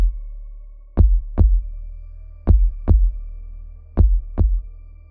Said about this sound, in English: my heartbeat pounding in my ears